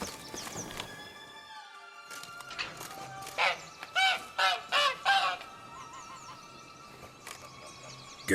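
A caged bird that lays eggs in The Witcher 3: Wild Hunt, giving a run of loud honking, goose-like calls in the middle, with quieter game ambience and tones before and after.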